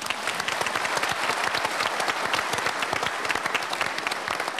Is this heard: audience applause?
yes